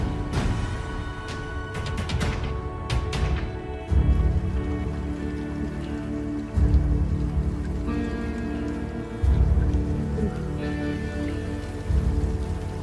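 Night rain falling steadily, a continuous patter of drops on surfaces with periodic louder pulses of low rumbling, no voices.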